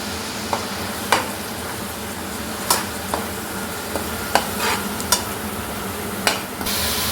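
Fresh ginger garlic paste fries in a pan under a steady sizzle, with sharp spatula scrapes and clicks against the metal at irregular intervals.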